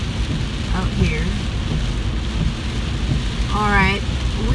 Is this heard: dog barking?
no